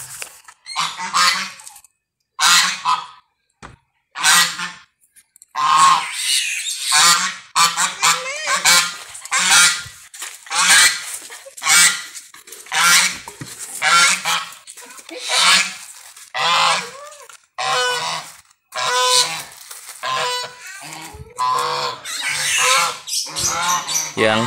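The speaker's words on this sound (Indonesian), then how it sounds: "Koleksi angsa ada 2 ekor yang dirawat dari anak-anak." Two geese raised from goslings honk repeatedly in their pen, loud and close, in a rapid series of harsh calls separated by brief pauses.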